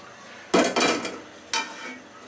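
Onions fried in oil for a Bangladeshi hotel-style mutton chaap, heard as close stirring and scraping in the pan in two short bursts, with faint sizzling between them.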